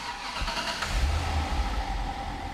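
A car engine turns over and catches, then settles into a low, steady idle rumble close by.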